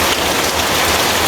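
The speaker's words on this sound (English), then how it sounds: "I look on the little rain out there" Rain falling outdoors in Jamaica after Hurricane Melissa, a loud, even wash of pattering drops close by with no voices.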